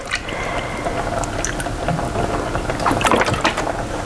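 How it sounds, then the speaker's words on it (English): Milk poured into a pot of rice cooking for creamy homemade rice pudding, a steady liquid splash and gurgle that continues for several seconds at close range with no talking. "I'm gonna add another 4 cups of milk and continue to cook"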